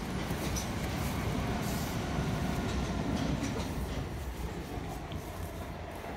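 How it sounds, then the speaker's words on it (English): A train runs past a river bridge, a steady loud rumble with rail clatter that holds for several seconds and then eases slightly as it moves on, with no talking over it. "There's a train just gone past."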